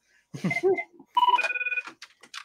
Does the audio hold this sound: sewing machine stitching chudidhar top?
no